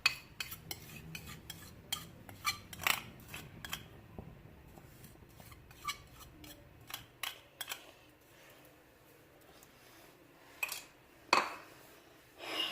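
Chicken cooking in a lightly oiled frying pan, stirred with a utensil: intermittent close clacks, taps and scrapes against the pan, separated by quieter gaps.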